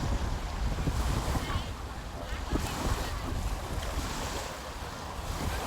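Strong, gusty wind buffets the microphone over a steady roar of surf at Manila Bay's Dolomite Beach, loud and continuous with no voices.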